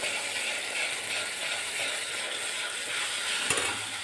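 Gravy being stirred in a pan over a low gas flame, a steady soft sizzle with rhythmic scraping and one sharp knock of a spoon near the end.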